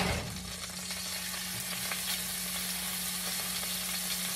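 Red snapper frying in hot lard in a cast iron pan, a steady dense sizzle and crackle with a faint hum beneath, close and continuous, no voices.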